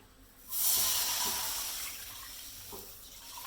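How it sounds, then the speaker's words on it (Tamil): Two cups of water pour steadily into a pot for ghee kesari syrup with a rushing, splashing hiss that starts abruptly and gradually softens, heard close up with no talking. "ஃபஸ்ட்டு 2 கப் தண்ணி ஊற்றணும்"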